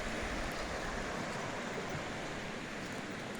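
The Lackawanna River flows beneath old railroad bridge remains in Lackawanna County, giving a steady, dense rushing of water that stays even and constant throughout, with no talking.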